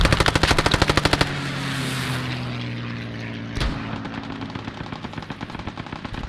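Rapid bursts of SMG fire in Post Scriptum rattle out in quick, sharp shots, a dense burst at the start, a lull, then another run of shots at the end, close and loud.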